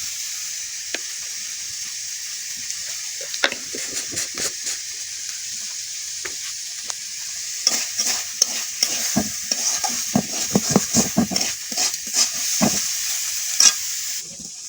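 Dried fish (shutki) with salt and turmeric frying in a pan, a soft constant sizzle beneath repeated clattering stirs and scrapes of a spatula, sparse at first and growing busier toward the end.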